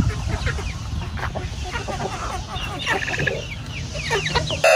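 Dong Tao chickens clucking repeatedly at close range amid a busy barnyard din, with scattered squawks and a steady murmur of other birds.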